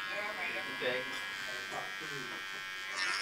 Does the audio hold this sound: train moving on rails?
no